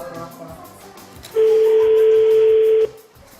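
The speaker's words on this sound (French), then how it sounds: "Ah, ça sonne." A single steady telephone ringing tone sounds on a phone call for about a second and a half, clear and continuous, following faint background noise.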